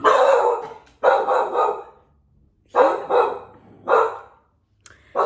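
A dog barks in loud, close bursts, several sharp barks in quick groups separated by short silences.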